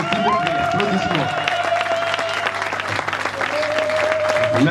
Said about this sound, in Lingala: s'il vous plaît, applaudissements.